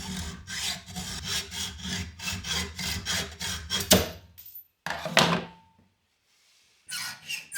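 A handsaw cuts an excess piece off wood or plastic for a jobsite saw infeed table: about a dozen quick, rhythmic rasping strokes, close and loud, then a short pause, a brief scrape, silence and a final burst of strokes.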